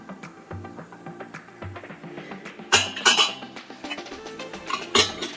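Sterling silverware pieces being handled, giving a run of bright metallic clinks and clatters, with several louder clusters of rattling near the middle and end.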